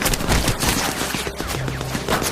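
Dense, rapid machine gun fire in a World War II style video game battle, a continuous loud rattle of shots with no pauses across the whole stretch.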